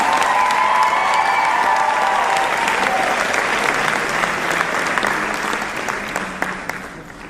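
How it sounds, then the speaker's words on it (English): Loud audience applause with some cheering for the contestants at the Mr. Central 2019 pageant, a dense steady clapping that fills the room and tapers slightly toward the end. "Can we give one big final round of applause to all the boys in the room?"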